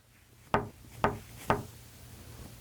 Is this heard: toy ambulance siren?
no